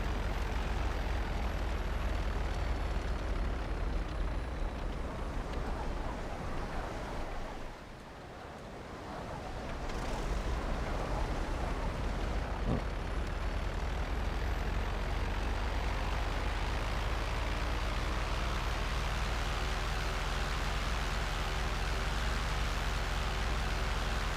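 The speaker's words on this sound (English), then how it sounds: "Yeah, I hear engines." Aircraft engines roaring in the online game GTA Online, a loud continuous drone that dips briefly near the middle and then swells back up, with no talking.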